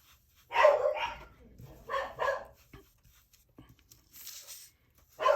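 A nearby dog barks in short clusters of two or three, separated by pauses, with faint background noise.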